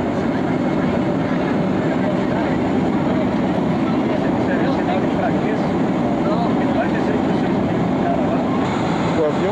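Airplane cabin noise on a 1996 flight to Miami, a loud, unbroken engine and airflow drone filling the whole stretch at an even level.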